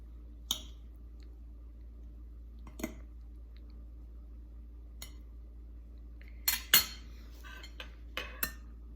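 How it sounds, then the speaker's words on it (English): A boiled egg is cut with cutlery for a chicken arroz caldo topping: sparse, quiet clinks and light scrapes of metal on a dish over near silence, with a brief cluster of sharper clinks toward the end. "Let's just cut our egg"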